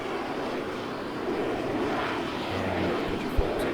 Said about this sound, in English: Picks up speed and just lifts off.